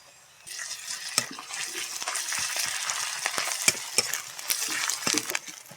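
Garlic paste and ginger frying in a pan for a village-style mung dal with katla fish head, a steady close sizzle with scattered sharp pops and stirring scrapes.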